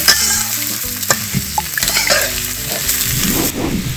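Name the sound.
frying chalkumra (ash gourd) pieces until brown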